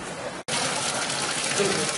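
Water gushes steadily from a non-potable supply near a cathedral in Santiago, a continuous close rushing broken only by a very short gap near the start.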